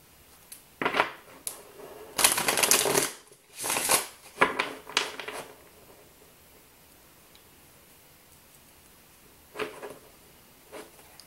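Tarot cards are shuffled close by in several short riffling bursts, loudest early on, then a long quiet stretch and two faint brief shuffles near the end, with no talking.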